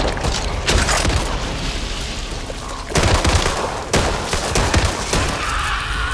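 Rapid gunfire rattles through a Back 4 Blood shootout, loud bursts and sharp shots, heaviest near the start and again around the middle, with no talk over it.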